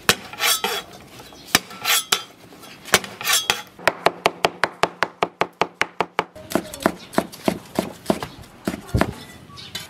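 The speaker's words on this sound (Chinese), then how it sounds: "驴拐尖快煮熟的嘞，再调个醋蒜汁子" Vinegar and garlic dipping sauce being mixed in a bowl, heard as a fast run of sharp clinking strikes, steady and close, with spoon or utensil taps against the dish and no speech.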